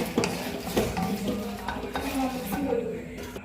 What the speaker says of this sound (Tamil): மிளகா நல்லா வறுபட்டுட்டு இந்த அளவுக்கு வந்தால் போதுமா?